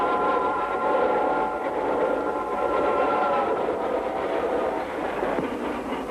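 A train rumbles steadily along the tracks at Melbourne's Flinders Street Station, a continuous rolling roar with faint rhythmic clatter and a high metallic squeal running through it.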